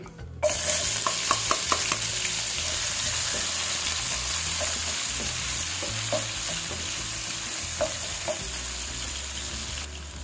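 Onion sautés in oil in a pan for chicken adobo, giving a steady, close hissing sizzle with occasional light clicks from stirring throughout.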